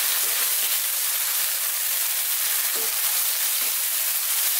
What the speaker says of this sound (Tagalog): So, gigisahin na natin ito ng mga ilang minuto.